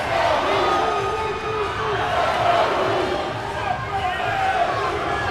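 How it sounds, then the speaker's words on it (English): A dense crowd at a college swimming championship roars and cheers steadily, loud and reverberant in an indoor natatorium, with a commentator's voice running over it. "Crowd still going nuts."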